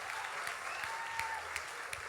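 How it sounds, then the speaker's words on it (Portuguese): Audience applause for performers at a church service, a steady wash of many hands clapping throughout, moderately close and continuous without a clear break. "Uma salva de palmas para o Fagunço e para as irmãs dele"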